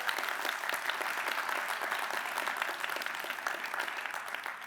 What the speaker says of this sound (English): Round of applause for Anthony.